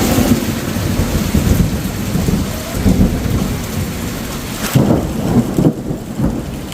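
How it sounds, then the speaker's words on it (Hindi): Heavy rain pours down steadily and loudly, with low rumbles of thunder rolling underneath. "भाई साहब बारिश की जो रफ्तार है तो और ज्यादा हो गई है"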